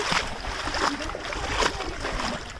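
A flooded stream rushes past with a strong current, a continuous broadband roar of churning water heard close by.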